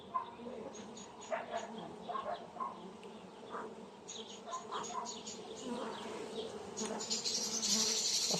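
Honey bees drone in a soft, continuous buzz inside a hive about to swarm, with faint scattered knocks and stirrings and no clear speech.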